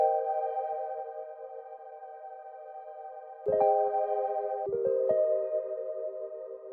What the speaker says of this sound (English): After that, I went and layered the Rhodes with the pad.